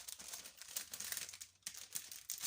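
Plastic packaging crinkles and tears as it is opened by hand, a close, busy run of crisp crackles and rustles with brief pauses.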